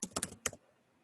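Several quick keystrokes on a computer keyboard clatter in a short burst, then stop, leaving faint room quiet.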